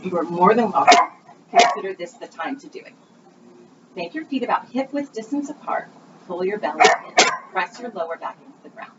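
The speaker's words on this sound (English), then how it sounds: "That is my dog. I'm sorry." A dog barks in short loud bursts in the background of a home exercise session, sharp barks and yips clustered early and late while a woman keeps giving spoken instructions over them.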